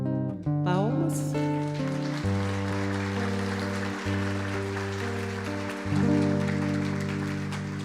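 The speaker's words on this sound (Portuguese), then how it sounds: "Palmas." An audience claps steadily at a gospel singing performance, a dense continuous patter of many hands sustained under held musical chords for several seconds.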